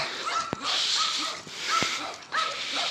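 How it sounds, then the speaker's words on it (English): Neighborhood dogs bark and yip in short bursts, a few sharp calls spaced out over steady background noise, fairly close. "every time I take you for a walk, Chewie, every dog in the neighborhood acts like they've never seen you before?"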